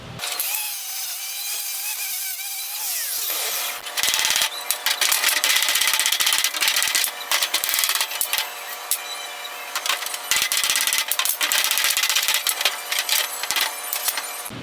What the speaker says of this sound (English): we'll go ahead and get a wire wheel and get this all cleaned off